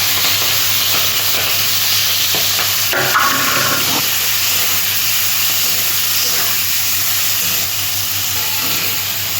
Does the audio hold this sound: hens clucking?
no